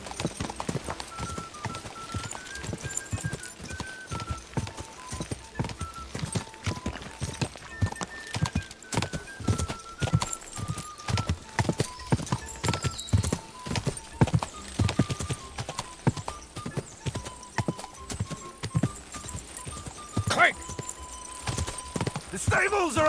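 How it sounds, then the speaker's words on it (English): Horse galloping in the video game Kingdom Come Deliverance 2, a fast steady run of hoofbeats throughout with occasional whinnies, game music and voices talking over it. "do you ride as well as you wield a sword? Let's see. I'll race you there."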